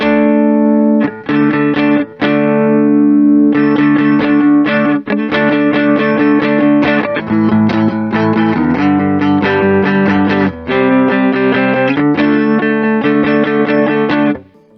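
Clean electric guitar tone from the neck pickup of a Vintage VS6SVB, played alone, chords and notes ringing out with short pauses between phrases, bright and sustained.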